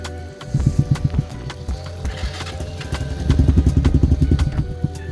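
A Lifan KP Mini 300 motorcycle with a swapped ZS175FMN engine sputters and chugs while being started, uneven rapid firing pulses that rise, falter, then build again into a louder irregular putter, close up.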